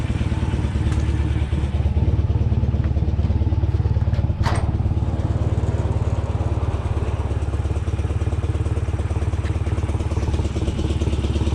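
A motorcycle engine runs steadily, warmed up after sitting unstarted for two months, its close, loud, even idle chug carrying on unbroken before the rider sets off.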